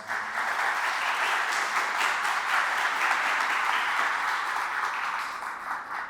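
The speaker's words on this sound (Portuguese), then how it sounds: "queria uma salva de palmas" An audience at a community chapel podcast gathering gives steady applause, a dense, even patter of many hands clapping at close range for several seconds before fading slightly at the end.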